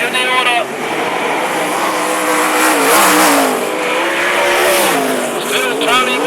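Sprint cars racing at Mac's Speedway, a loud continuous roar of engines rising and falling as cars pass, with a commentator talking over the racing throughout.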